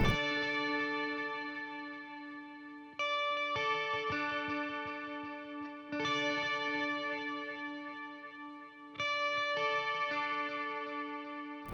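Clean electric verse guitar through the Guitar Rig 7 Michael's Delight preset in a post-punk track, playing sustained chiming chords restruck every few seconds with ringing overtones, alone.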